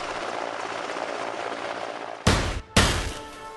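An Air Force Mi-26 heavy helicopter lands at the Kedarnath helipad, 11,600 feet up in a Himalayan valley, with a sustained, dense roar of rotor and turbine noise. Two abrupt, louder bursts of wind-like blast follow near the end.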